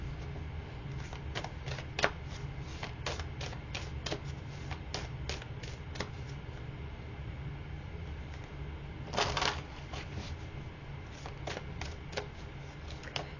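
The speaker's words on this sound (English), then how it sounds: "let me pull 3 more cards here" Tarot cards shuffled and drawn by hand in a quiet room, a run of crisp close flicks and riffles with a denser burst of card noise partway through, no talking.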